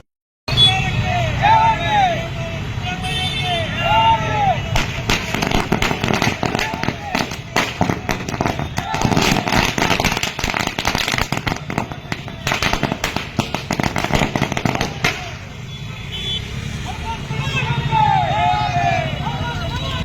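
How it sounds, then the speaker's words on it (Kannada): Firecrackers crackle at a street celebration held by the Hadapada Appanna community in Kalaburagi, with dense rapid bursts for about ten seconds amid crowd noise and voices, then the crowd alone carries on. "ಪಟಾಕಿ ಸಿಡಿಸಿ ಸಂಭ್ರಮಾಚರಣೆ"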